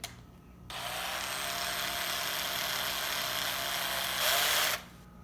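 A power drill whirs steadily for several seconds at a low, even speed, then briefly rises in pitch before stopping; close and alone.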